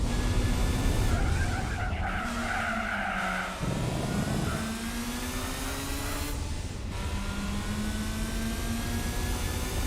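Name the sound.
car turbo spooling up in the video game Gran Turismo 4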